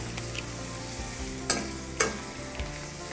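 Spices fry in oil in a pan for capsicum pachadi, a soft continuous sizzle broken by a few sharp clinks of a stirring spoon.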